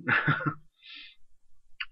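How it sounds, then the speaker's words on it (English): Three quick, harsh coughs burst out close by, followed by quiet breaths. "Got a bit of a cough coming on."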